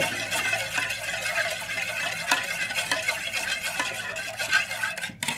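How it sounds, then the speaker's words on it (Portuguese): A spoon stirs a gelatin mixture to dissolve it, scraping and swishing steadily and close against the container with light clinks, continuous for several seconds. "Eu mexo mais um pouquinho."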